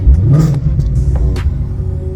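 A Ford Mustang engine revs up with a low rumbling roar, rising in pitch then settling, close by with no voices.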